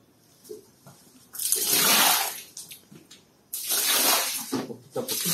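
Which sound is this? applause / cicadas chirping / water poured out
water poured out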